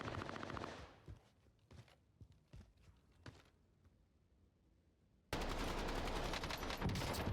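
Gunfire in Call of Duty Warzone: a rapid burst of shots opens, followed by scattered single reports and footsteps, then a sustained loud barrage of automatic fire fills the final two seconds.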